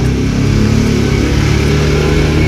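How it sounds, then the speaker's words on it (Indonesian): A loud motor engine roars steadily throughout, a rough low rumble with no break, sounding like a motorcycle running close by. "itu suara motor berisik banget."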